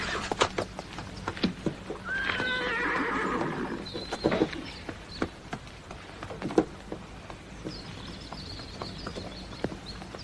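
A horse in a 1960s French-dubbed western neighs loudly in a long whinny near the start, followed by scattered hoof clops and patters, with a fainter second whinny later and sparse quieter movement between.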